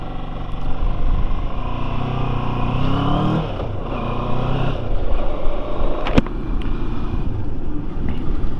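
A motorcycle riding around the block, heard as a steady, loud engine drone with a shifting pitch that holds throughout, with no talking.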